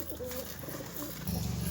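Pigeons coo in low, throaty, repeating phrases close by, a steady murmur that swells slightly toward the end.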